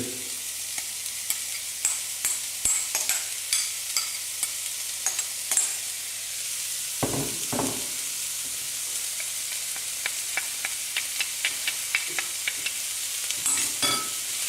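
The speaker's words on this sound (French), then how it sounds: "on rajoute notre préparation de légumes qui doit toujours frire et jamais mijoter" Chopped vegetables fry in hot oil in a pan with a steady sizzle, broken by frequent sharp clicks and scrapes of a utensil stirring and turning them, with a louder burst of spatter midway; no voices.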